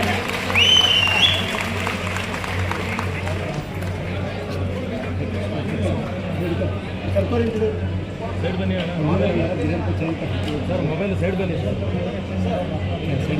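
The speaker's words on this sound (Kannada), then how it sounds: "ಚಪ್ಪಾಳೆ ಬರಬೇಕು ಒಂದು ಕಡೆ" Applause from an audience, steady and dense, with crowd chatter mixed through it throughout.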